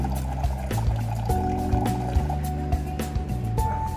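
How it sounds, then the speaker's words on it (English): An Alva WL7 countertop water dispenser pours cold water into a container, a steady close-up liquid fill with gurgling and rising tone, over a low electrical hum, with no talking. "turn the knob to select the cold water and dispense the water by pushing the button"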